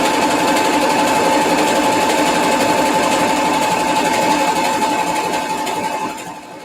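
A sewing machine stitches high-waisted jeans in one steady, fast, continuous run, loud and close, slowing and fading just at the end.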